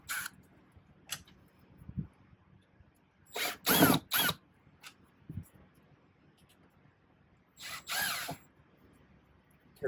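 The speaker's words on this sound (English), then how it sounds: "we're going to take the screwdriver or the drill, and there's going to be 1, 2, 3 Phillips head screws" A power drill backing out Phillips head screws on a 2018-or-later Ram ProMaster van mirror: short, close whirring bursts with ratcheting clicks, separated by quiet pauses and light handling taps.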